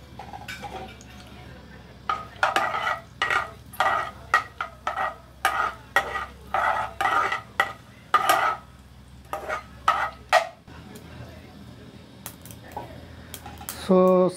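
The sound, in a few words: mustard seeds and cumin crackling in hot cooking oil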